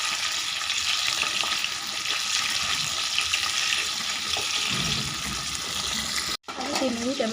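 Pointed gourd (potol) frying in a covered pan, a steady dense sizzle throughout, briefly cut near the end before a voice speaks over the continuing crackle.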